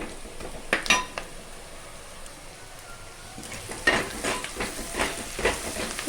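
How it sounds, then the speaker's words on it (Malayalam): Onions sautéing in a pan for crab curry, a steady low sizzle with a spoon scraping and clinking against the pan in short bursts near the start and again toward the end. "അപ്പോൾ ഇത് നന്നായിട്ട് വഴറ്റിയെടുക്കണം"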